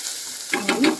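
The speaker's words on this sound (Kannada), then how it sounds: "ನೋಡಿ, ಈ ರೀತಿ ನೀಟಾಗಿ ಫ್ರೈ ಆಗಬೇಕು ಕರ್ಬೇವಿನ ಸೊಪ್ಪು" Curry leaves sizzling in hot oil in a pan for soppu sambar: a quiet frying hiss that swells into a few sharper crackles and stirring scrapes near the end, close by, with no talking.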